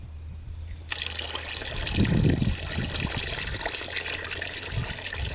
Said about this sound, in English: let's drain the coolant out and see what that looks like